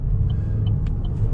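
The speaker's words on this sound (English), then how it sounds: "See how it accelerates." A used car accelerating, heard from inside as a loud, steady low engine and road rumble with faint higher ticks, over a very short stretch and with no talk.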